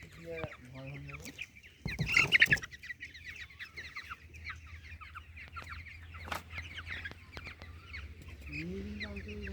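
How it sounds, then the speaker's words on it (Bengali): Chickens moving and clucking in a poultry shed, with repeated close clucks and calls over a steady low hum and a louder flurry of calls near the start. "মুরগি চলাচল করতেছে।"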